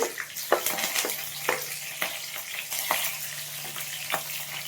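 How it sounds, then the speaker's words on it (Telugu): Mustard seeds, curry leaves and green chillies sizzle in hot oil with a steady frying hiss, punctuated by sharp crackles and pops as the seeds burst, close up and with no one talking. "ఆవాలు ఆడాయి రెండు రెమ్మల కరివేపాకు ఒక మూడు పచ్చిమిర్చి"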